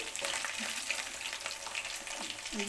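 Chicken pakoras deep frying in hot oil, a steady, dense sizzle with small crackling pops throughout, close and continuous, with no talking.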